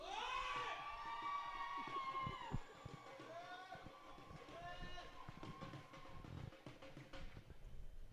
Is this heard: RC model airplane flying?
no